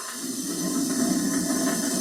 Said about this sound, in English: This is how you fill it with water.